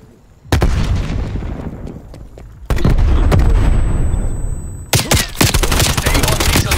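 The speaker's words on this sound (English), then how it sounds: "Sending frag grenade." A frag grenade explosion and surrounding gunfire in Call of Duty Black Ops Cold War multiplayer team deathmatch: three loud, dense bursts of blasts and rapid shots, each cutting off abruptly, with the last erupting near the end.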